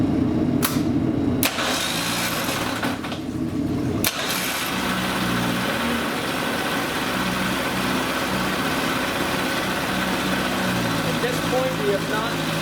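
An early Mercury Mk 55 outboard engine with a test wheel cranks in a few short tries, then catches and settles into a steady, close, loud running drone, with people talking nearby.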